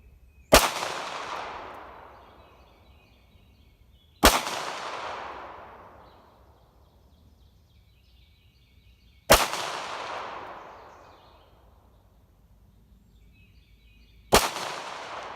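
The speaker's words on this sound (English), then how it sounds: "I'm going to go up forward, run through more of these pistol mags here at some shorter ranges." Four pistol shots fired at shorter range outdoors, each a loud sharp crack spaced several seconds apart and followed by a long rolling echo, with no voices.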